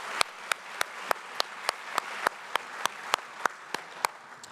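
Steady clapping at an awards ceremony induction, with sharp individual claps landing in a regular rhythm about three per second over a softer background of scattered clapping from the room.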